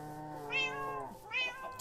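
A cat in the video game Minecraft meows twice, two clear tonal calls about a second apart, close and alone with no talking.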